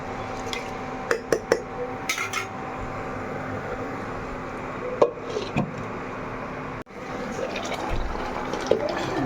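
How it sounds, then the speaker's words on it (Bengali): A small amount of water poured into a cooking pot of simmering fish curry with potatoes, a soft, steady liquid wash with a few brief splashes and clinks, close by with no talk. "এবার জল দিয়ে দিলাম সামান্য, অল্প জল দিতে হবে"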